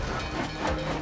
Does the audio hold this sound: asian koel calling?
no